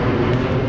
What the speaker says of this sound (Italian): Indecenti sti aerei comunque.